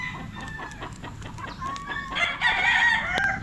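A claret gamefowl broodcock crows close by, a rising, wavering call that swells in the second half over a steady background of clucking and other fowl noise.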